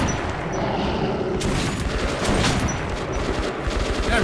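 Shotgun fire in the video game Metro: Last Light, loud, heavy blasts in quick succession over a dense, chaotic combat din.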